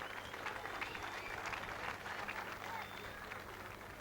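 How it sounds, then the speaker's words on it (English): A crowd at the 1996 World's Strongest Man final in Port Louis, Mauritius, cheers and applauds a strongman competitor, a dense, steady wash of clapping and shouting that holds at full level throughout. "Gerrit's adoring fans cheer their man"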